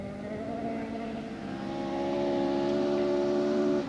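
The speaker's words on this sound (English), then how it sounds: "Playing the throttle a little to get traction off the line." 1980 ex-Roger Clark Ford Escort RS 1800 BDA rally car pulling off the start line, engine note rising in pitch with throttle blips as it gains traction, fairly close and unaccompanied by talk.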